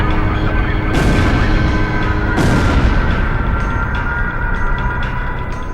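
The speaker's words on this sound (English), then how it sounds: "Initiate bombing sequence. Drop them all. Turn it to ashes." Bombs detonating on ground targets during an air raid in the flight combat game Ace Combat Zero, two loud deep blasts about a second and a half apart over a steady roar of aircraft engines.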